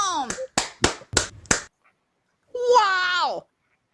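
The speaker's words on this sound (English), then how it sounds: "Clap my hands to turn it on." Four sharp hand claps in a quick, even sequence, close and loud, followed after a pause by a sustained voice.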